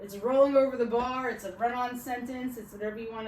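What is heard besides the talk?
No everyday noise stands out behind the speech.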